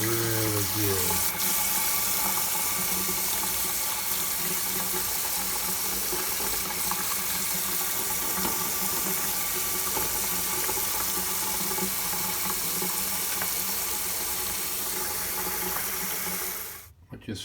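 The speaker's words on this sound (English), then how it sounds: "We're going to rinse off the back too." Running tap water pours steadily over a Commodore PET CBM 2001-16 circuit board being rinsed clean, a continuous close splashing hiss that ends abruptly when the flow is shut off; a voice briefly murmurs near the start.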